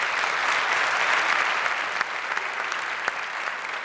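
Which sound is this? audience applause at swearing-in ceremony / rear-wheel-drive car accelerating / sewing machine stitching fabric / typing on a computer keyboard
audience applause at swearing-in ceremony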